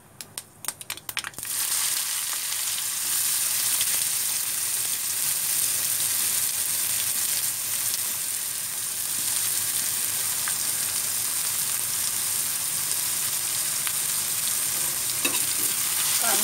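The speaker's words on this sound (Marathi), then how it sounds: "आता टाकते कांदा," Chopped onion hitting hot oil in a pan while cooking capsicum bhaji, a few sharp clatters at the start, then a loud, steady, close sizzling hiss that carries on to the end without talk.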